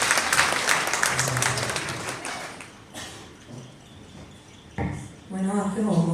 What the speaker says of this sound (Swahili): Situpigie Miriam makofi mazuri.